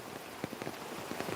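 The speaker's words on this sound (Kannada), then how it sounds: "ಮತ್ತೆ ಮಳೆ ಬರ್ತುಂಟು ಜೋರು" Heavy rain pours down steadily in a dense, hissing wash, with scattered sharper drops standing out, faint and continuous with no talking.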